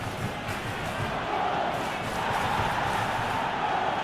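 Football crowd in a simulated Nottingham Forest vs Aston Villa match cheering, a broad roar that swells and holds steady throughout.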